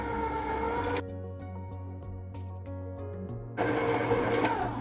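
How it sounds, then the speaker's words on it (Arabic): Kitchen grinder whirring as it grinds a flour mixture for tuna pizza dough, a steady loud motor drone with a brief lower-pitched stretch mid-clip before the pitch rises again, no talk. "دابا غادي نطحن"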